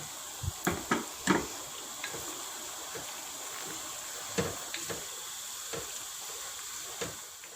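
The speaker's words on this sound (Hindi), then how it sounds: "अब इसमें सब्ज़ मिर्चें ऐड करके मज़ीद 1 मिनट भूनेंगे" Green chilies frying in a pan for chicken haleem, a steady soft sizzle with occasional clicks and taps of stirring, quiet and close.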